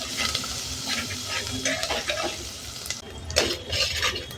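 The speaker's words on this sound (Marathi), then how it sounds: "लसूण असं ठेचून घेतले दोन पीस आणि कढीपत्ता. आता हे छान परतून घेऊया." Crushed garlic and curry leaves sauté in a pan, a steady sizzle with a spatula scraping and stirring in bursts, close and moderately loud, with occasional clinks of utensil on metal.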